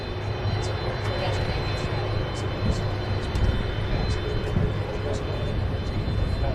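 A Boeing 727 passenger jet's engines give a steady loud roar with constant broadband rumble, and a voice talks over it.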